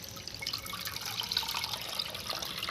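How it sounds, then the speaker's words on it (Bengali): Boiled soybeans being rinsed with cold water, a continuous close splashing and trickling of running water with small drips, no voices. "ঠান্ডা জল দিয়ে বন্ধুরা ধোয়া হচ্ছে সয়াবিন"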